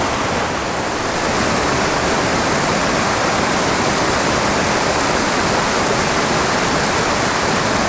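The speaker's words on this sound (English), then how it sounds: "It's just cascading down through the rocks here." A steep, tiny brook-trout creek cascades down through rocks, a loud, steady roaring rush of water that fills the whole stretch with no talking.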